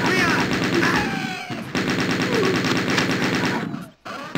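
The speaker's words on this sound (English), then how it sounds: "And pull out the chain gun." Rapid, continuous chain gun fire in Wolfenstein 3D, a steady mechanical rattle of closely spaced shots that runs loud and unbroken, pausing briefly and then resuming.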